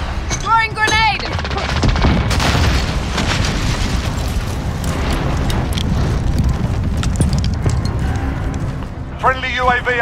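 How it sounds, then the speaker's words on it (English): A loud grenade blast in a Call of Duty Modern Warfare team deathmatch, a heavy booming rumble that rolls on for several seconds amid gunfire, with a voice briefly calling out before and after. "Throwing grenade!"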